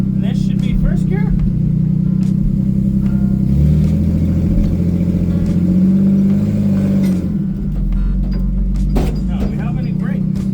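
An old DeSoto car, driven for the first time in years, pulls away in first gear: a low, steady engine drone that swells as it moves, with someone talking over it.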